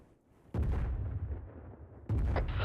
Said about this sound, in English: it's exploding quite good